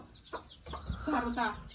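A mother hen with her brood of about a dozen chicks clucks in short, close calls, with a person talking nearby.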